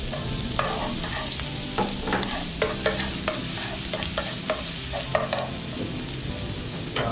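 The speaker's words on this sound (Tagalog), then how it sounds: "magigisa muna tayo ng bawang, sibuyas at kamatis" Garlic, onion and tomato sautéing in a pan for sizzling squid adobo, a continuous frying hiss punctuated by regular spatula scrapes and taps against the pan.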